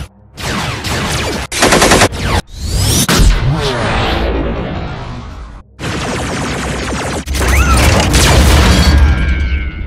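Autobots opening fire in a Transformers battle: loud, dense bursts of rapid machine-gun fire mixed with energy-weapon whooshes, booms and crashes, near and continuous with brief gaps.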